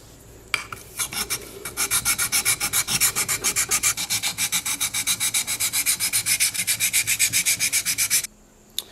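A steel chisel's back being flattened on an abrasive during a restoration: fast, even back-and-forth rasping strokes, about four per second, repeated steadily for roughly seven seconds, close and loud, with no talking.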